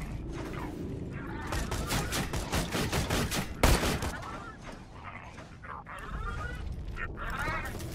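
Rapid automatic turret gunfire in Borderlands 2, a dense stream of loud repeated shots with one sharp heavy blast midway, continuing over game noise for the whole stretch.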